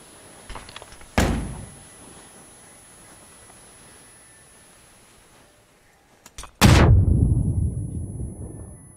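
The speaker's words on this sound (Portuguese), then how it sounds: "Uma bomba." Two heavy booms from a bomb exploding in a PUBG-style shooter game: a sharp blast early on, then a louder, closer explosion whose low rumble lingers to the end.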